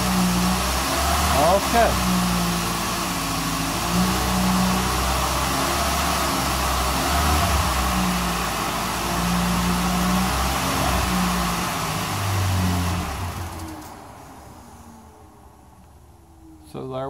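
Car engine held at about 2,000 RPM during an alternator and battery check, a steady mid-pitched drone that settles and drops toward idle near the end, with someone talking briefly over it.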